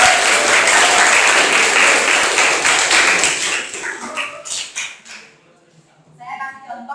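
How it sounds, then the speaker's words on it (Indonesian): Classroom applause for a classmate, a dense burst of many hands clapping that thins into scattered claps and fades, with voices rising as it dies away. "Beri tepuk tangan kepada teman."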